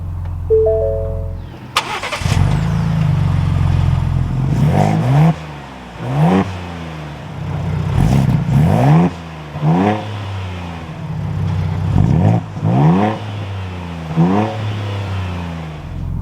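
A 2023 Ford Bronco Raptor fires up from silence with a sharp starter crank, then settles into a loud idle punctuated by a series of strong, evenly spaced revs that swell and fall back, close by and unaccompanied by talk.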